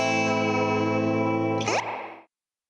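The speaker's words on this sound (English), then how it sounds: "We're also hearing Fender's famous spring reverb." A Fender Super Sonic tube amplifier's long-pan spring reverb washes behind a sustained, distorted guitar chord, then a sharp splashy crash as the chord cuts off and the reverb tail dies away.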